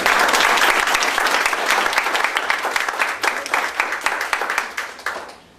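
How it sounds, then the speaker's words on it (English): An audience at a board meeting breaks into a round of applause for a pre-med scholarship student, with steady close clapping from many hands that thins out and fades toward the end. "let's give her a little round of applause"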